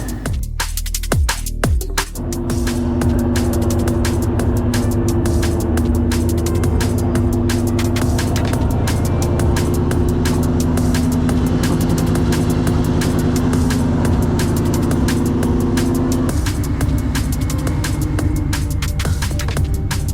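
A supercharged Ford Mustang engine runs steadily on a test drive, heard from inside the car as a continuous low drone with road rumble and scattered clicks and rattles.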